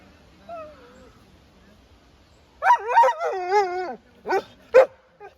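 Several Laika hunting dogs bark and yip in short bursts during badger trials, some higher and whiny, fairly close, after a quiet stretch with faint background noise.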